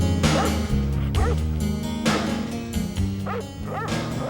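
Sled dogs yipping and barking in a dense, overlapping chorus over a steady background din, with harmonic whines and sharp yelps recurring throughout, close and loud.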